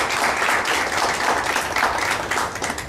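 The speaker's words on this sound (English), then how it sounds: "Can we have a big round of applause for yourselves and for Webonize?" Audience clapping at an agile testing meetup in Pune, a full continuous round of applause from a roomful of people, steady and close throughout.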